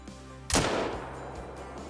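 A single rifle shot cracks out in the hunting game Call of the Wild on an African hunt with a small-caliber weapon: one loud, sharp report followed by a short rolling echo over quiet ambience.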